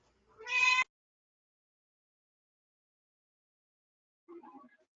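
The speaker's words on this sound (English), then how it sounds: "sorry, it's my cat in the background" A cat in the background gives one clear meow near the start, then after a long silence a fainter, rougher sound follows near the end, alone without talk.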